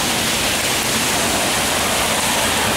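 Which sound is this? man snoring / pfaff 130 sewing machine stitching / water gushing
water gushing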